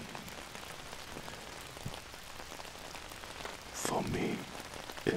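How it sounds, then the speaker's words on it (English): Rain pattering on an umbrella held over a close microphone, a soft, constant hiss of drops with a louder, brief swell of spray near the end. "Oh man, I love the sound of rain."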